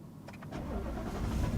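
A Ford Mustang GT engine cranks briefly and then catches, its low rumble swelling steadily louder over a second and a half.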